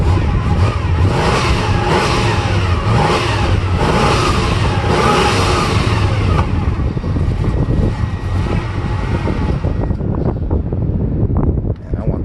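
A 1972 Chevelle's engine revs hard, a loud, sustained roar with rising and falling pulses close by, buffeted by wind noise, then the revving eases and the engine settles toward the end.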